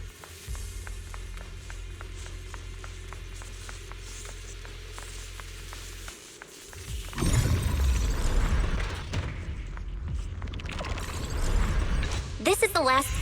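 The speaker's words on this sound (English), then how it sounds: "That's the sound of machinery." Machinery in the video game Zenless Zone Zero starts up: a steady low hum gives way to a loud, broadband mechanical roar with clanking bursts that keeps grinding to the end. No speech.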